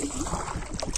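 Two people paddling a kayak on a lake in Sri Lanka, with steady splashing and water movement close by, mixed with wind buffeting the microphone over about a second.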